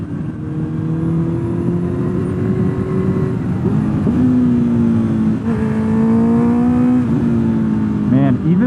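A Honda CB650R motorcycle with a very loud aftermarket exhaust pulls hard, its engine note climbing in pitch through the revs with brief dips at gear changes, close and loud throughout.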